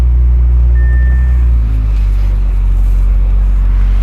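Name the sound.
Audi S5 engine running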